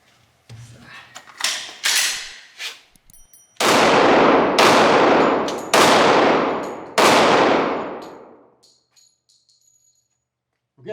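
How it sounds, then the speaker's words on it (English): Glock 41 Gen 4 pistol firing .45 ACP rounds: several light clanks and clicks, then four loud, sharp gunshots spaced about a second apart, each ringing off into a long echoing decay, with no talking. "I'll do some shooting"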